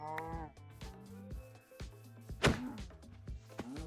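Cows moo in Minecraft, several short low moos in quick succession with thumping footsteps or hits between them, close and clear, no talk.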